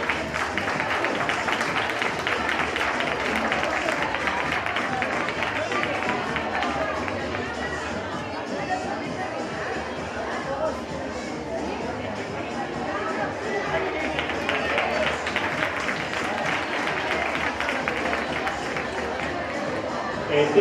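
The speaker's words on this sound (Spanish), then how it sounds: "Un aplauso." An audience at a children's carnival costume contest in Chillón, 2020, claps steadily for about twenty seconds, with crowd chatter and voices running through it.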